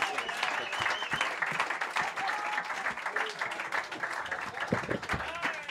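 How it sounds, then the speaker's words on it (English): Audience at a comedy roast show applauds, a sustained wash of many hands clapping at steady volume, with occasional whoops and crowd noise mixed in. "clap it up one more time for Katie and Sam."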